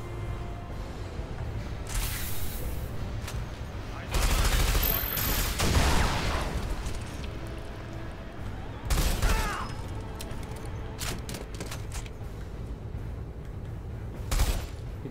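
Automated turrets fire in the video game SiN Episodes: Emergence, with bursts of rapid gunfire around four to six seconds and again near nine and fourteen seconds over a constant background of game noise.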